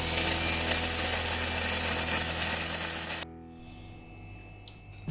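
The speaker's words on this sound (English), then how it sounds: "Just close this and I'm going to grind it, and we just grind it after we switch it on." An electric spice grinder whirs loudly and steadily while grinding a tablespoon of shahi jeera, then switches off abruptly after about three seconds, leaving a faint low hum and small clicks.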